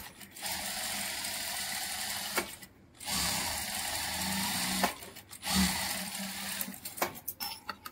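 A sewing machine stitches lace onto fabric on both edges in bursts of rapid, close mechanical whirring, stopping briefly between runs, with small clicks and handling noises in the pauses.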